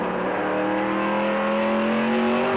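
Race car engine in a 1999 Pro Cup stock car race at Greenville-Pickens, held back and then throttled through a corner, a loud continuous drone with rising harmonics and no talk.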